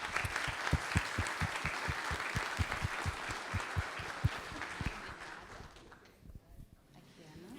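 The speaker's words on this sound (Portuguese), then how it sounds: "peço aí a toda a audiência uma salva de palmas aos nossos painelistas." An audience applauds the panelists at a business conference, with dense, close clapping that gradually thins and fades out near the end, while a voice speaks beneath it.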